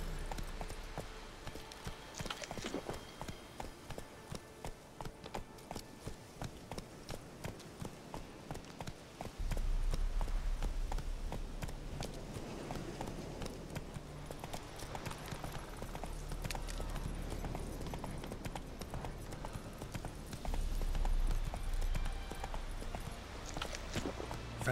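Roach, Geralt's horse in The Witcher 3, gallops with steady rhythmic hoofbeats that run continuously and grow heavier partway through, close and fairly loud over a low game backdrop.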